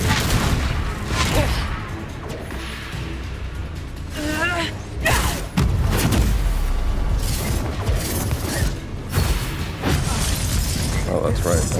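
Confringo blasting spells fired in Hogwarts Legacy, several sharp bursts and booms with crackling, shattering debris amid combat noise, a player shouting the spell over them.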